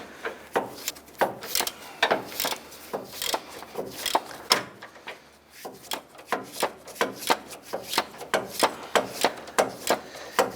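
Rapid metallic ratcheting clicks from a ratchet turning the nut on an upper control arm bolt of a 2002-2007 Jeep Liberty, coming in close, repeated bursts with short pauses, no talking.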